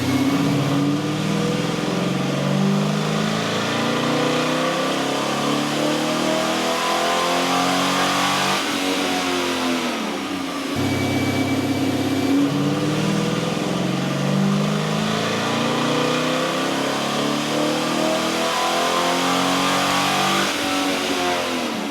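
A 1978 Chevy Caprice engine running a Holley Terminator X Max tune revs hard on a dyno through two back-to-back pulls, pitch climbing steadily, a short drop and idle between them, loud and continuous.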